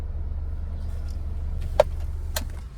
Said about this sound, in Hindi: गाड़ी स्टार्ट है बिल्कुल।